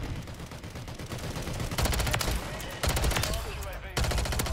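Sustained automatic gunfire from the game MW3 fires at aerial killstreaks in long, rapid bursts with short gaps between them, loud and close, with game sounds and some voice in the background.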